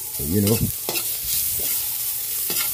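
Ginger and garlic sautéing in hot oil in a pan for pork batsoy, with a steady close sizzle and a few scraping stirs of a utensil against the pan.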